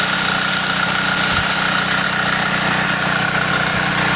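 A gasoline generator converted to run with a transformer, rectifying diode and battery drones steadily at idle, a loud continuous engine hum with a faint vibrating rattle and no pauses or talk.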